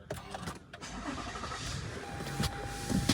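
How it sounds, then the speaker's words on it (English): A Toyota car engine cranks and catches, then settles into a steady idle inside a workshop during an oil change, heard close and alone without talk. "we're gonna start the car"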